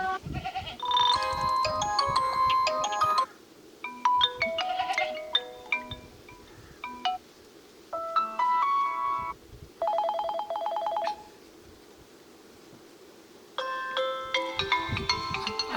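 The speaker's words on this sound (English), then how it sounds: "I have selected this ringtone." A Vivo V29 Pro 5G phone ringtone plays a bright electronic melody in repeated bursts, with short pauses between phrases, fairly clear and alone.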